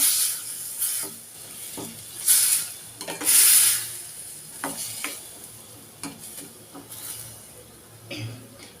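Ground coconut paste drops into a hot pan and is stirred, with bursts of sizzling and scraping over a steady background of frying and occasional utensil knocks; a voice talks at times.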